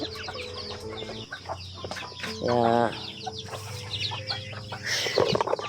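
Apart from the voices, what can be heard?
chickens clucking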